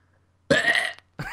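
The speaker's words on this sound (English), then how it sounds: "I thought it was gonna be a burp." A burp-like croak between friends playing Golf With Friends, a loud, rough blast lasting about half a second, then a brief pause and a second shorter burst.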